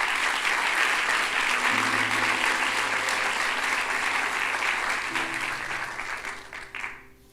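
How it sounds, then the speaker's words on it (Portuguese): Church congregation at a Lisbon service applauds loudly and continuously, with a sustained low tone, likely music, running beneath, and the clapping fades out at the end. "Pode dar uma salva de palmas para o Senhor."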